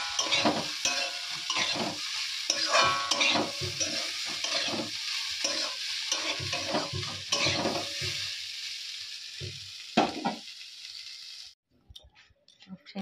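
Cauliflower and potato fry in a pan in a home kitchen, a steady close sizzle broken by scraping stirring strokes, with faint talk in places and a sudden drop near the end.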